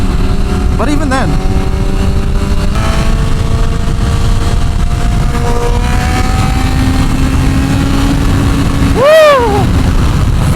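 A 2024 BMW M1000RR sport bike accelerates hard in sixth gear, its engine tone climbing steadily under heavy wind rush. A rider's voice calls out briefly near the start and again near the end.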